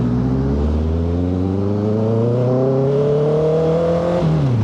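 A 2025 Honda CBR650R inline-four engine revs steadily upward, pitch climbing smoothly over several seconds before dropping sharply as the throttle closes, loud and close throughout.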